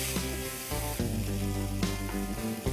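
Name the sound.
stirring paneer filling with chili flakes and herbs in a pan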